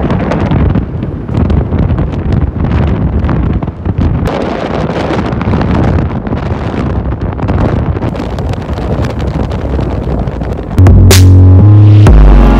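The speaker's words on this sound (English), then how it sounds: "It's very windy." Strong gusting wind buffets the microphone high on the huge chalk cliffs at Beachy Head, a steady roaring rumble that swells into a louder low throb near the end.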